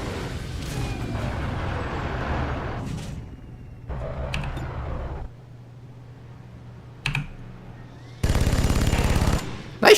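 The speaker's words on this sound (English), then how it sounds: "We'll just have the Shiv shoot a machine gun." The Shiv, a robotic unit in the XCOM 2 video game, fires its machine gun in three rattling bursts of rapid shots separated by short pauses, loud and close.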